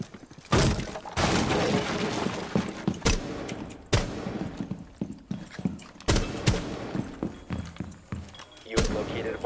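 Video game window breach during a bomb-defusal match on Xbox: sharp glass-shattering crashes and heavy impacts repeat every second or two, with mechanical clanks and bursts of gunfire-like noise between them.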